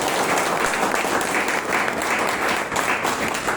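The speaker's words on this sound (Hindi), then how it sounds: "हम तमाम लोग एक बार अपने अपने गुरु की याद में ताली बजाएं सर।" A hall audience at a gathering applauds in memory of their gurus, a dense, even wash of clapping from many hands, loud and continuous from start to finish.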